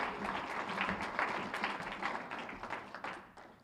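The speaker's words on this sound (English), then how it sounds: "let's give another round of applause for Shefali" Audience at a chamber of commerce annual luncheon breaks into steady applause, a dense wash of many hands clapping that holds for several seconds before tapering slightly at the end.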